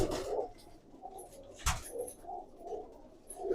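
Pigeons in a Punjabi breeder's loft give low, intermittent coos that come in soft repeated bursts, with a sharp brief knock partway through and faint background noise.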